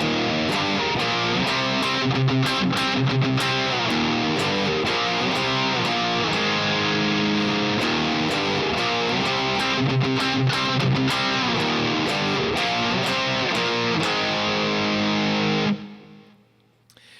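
A heavily distorted electric guitar chugs a steady rhythmic riff, loud and continuous, then stops abruptly and rings out briefly at the end.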